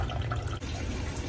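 Water pours and splashes steadily into a sump pit, a continuous rushing gurgle that stays close and fairly loud.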